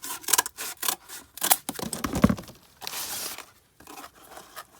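Scissors snipping across cardboard while making a custom comic book shipping box, a series of short crunchy cuts and scrapes, close and irregular, with no voices.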